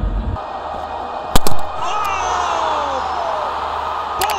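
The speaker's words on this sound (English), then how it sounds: "the crowd has gone mad" A cricket stadium crowd at a Pakistan Super League night match roars continuously, a loud, dense wall of cheering with a sharp slam-like burst partway through and whistles rising above the din.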